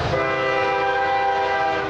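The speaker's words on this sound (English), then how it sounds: "This is how you're used to seeing trains in central Ohio, pulling freight from one end of our area to the other." A freight train in central Ohio rolls past with its horn sounding continuously, a loud sustained multi-tone blare over the steady rumble of the moving cars.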